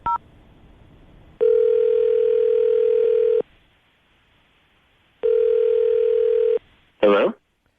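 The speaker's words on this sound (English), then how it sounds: "we're going to call him, see if we can get him on the phone" A landline telephone on a radio call-in segment gives a short beep, then two long steady tones, and ends with a brief burst of higher tones, all loud and close with no talking during them.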